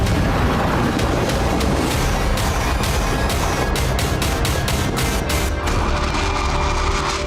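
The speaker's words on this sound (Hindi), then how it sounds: "अल जजीरा का पत्रकार हमलों की तस्वीरें दिखा रहा था, तभी एक जोरदार धमाका हुआ।" A loud airstrike explosion in Hodeidah, Yemen, during US bombing of Houthi sites, captured as a harsh, overloaded roar with a crackling burst of sharp impacts, heard close and alone without speech.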